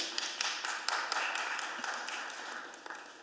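Scattered applause from the audience at a city budget hearing: a thin, moderately faint patter of hand claps that slowly fades over a few seconds.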